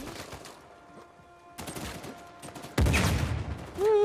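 Gunfire in the video game Uncharted 4 during an online match, with bursts of rapid shots that grow louder and denser toward the end.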